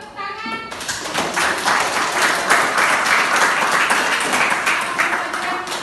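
A classroom of students claps together in a dense, steady burst of applause that rises quickly and holds at an even, lively level for several seconds before easing slightly.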